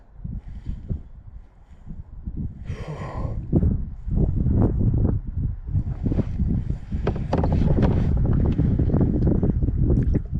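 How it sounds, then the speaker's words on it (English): Wind gusts buffet the microphone while kayaking on a lake, producing rumbling, uneven blustery noise that grows stronger and more constant toward the end. "now that I got some wind, it's not so bad"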